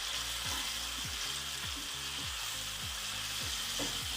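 Salted tomatoes fry in a pan for Indomie noodles, a steady close sizzle broken by regular spatula scrapes about twice a second, with no voices.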